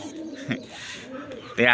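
Pigeons coo close by, a few soft throaty calls in short bursts, with a louder flutter of sound near the end and a voice talking at moments.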